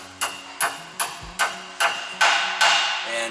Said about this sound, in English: Use pliers to help hold it in position, a brass maul so we don't damage the dowels.